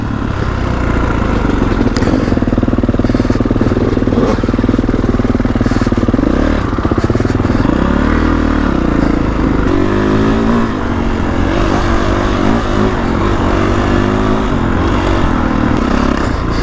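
A 2021 Kawasaki KX450X dirt bike ridden along a rutted, rocky Jeep 4x4 trail, engine loud and close throughout with throttle blips, revving swells and clattering over terrain.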